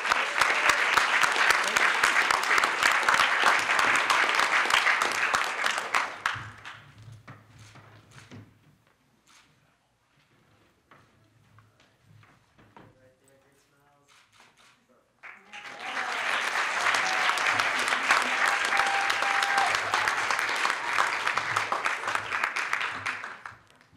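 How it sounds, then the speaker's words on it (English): Graduating class ceremony applause: a dense, loud crowd clapping for several seconds, fading to near silence with a few scattered claps, then surging back into a full, sustained ovation. "Let's have one more round of applause for the whole class"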